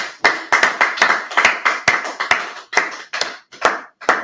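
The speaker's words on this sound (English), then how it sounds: "Clap it up." A group claps hands in loose unison, about a dozen sharp, close claps in an uneven rhythm over a few seconds, with brief gaps between them and no talk.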